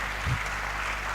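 Audience applause for a university professor at a ceremony: a brief, dense wash of clapping from many hands, steady and fairly loud throughout.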